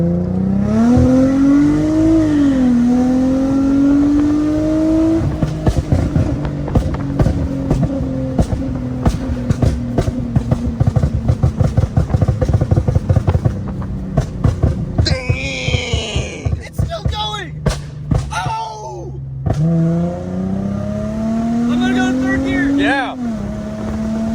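An Infiniti G35 engine with an Uprev tune revs hard, its pitch climbing and falling through repeated loud throttle blips, then holding a steady rpm; excited voices talk over it.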